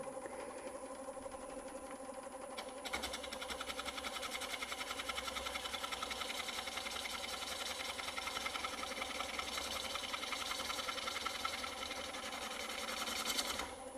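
A wood lathe turning an oval bowl on a Vicmarc oval device, a steady mechanical hum and rapid rhythmic chatter, joined after a few seconds by a continuous harsh scraping from a tool making an unsupported cut, with no voices.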